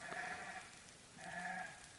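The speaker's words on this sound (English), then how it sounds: "That is the goat noises." Goat bleats played from a speaker outdoors in a quiet area at night, two faint wavering calls with a short gap between them.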